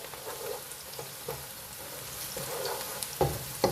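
Onion with ginger garlic paste frying in a pan for keema karela, a soft, quiet sizzle with occasional stirring clicks and spoon taps near the end.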